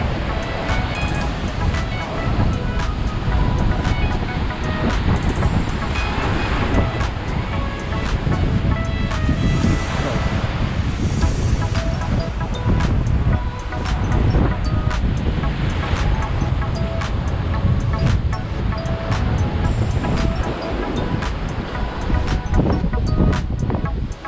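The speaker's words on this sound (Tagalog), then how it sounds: "Malakas ang alon." Strong surf pounds a Boracay beach during a storm, with gusting wind and broadband roar sustained throughout, wind buffeting the microphone, and people talking nearby.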